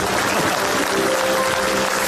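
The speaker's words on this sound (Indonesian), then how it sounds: "Tepuk tangan untuk Cak Lontong." Studio audience applause on an Indonesian comedy show, a short, dense burst of clapping that stays steady and fairly loud throughout.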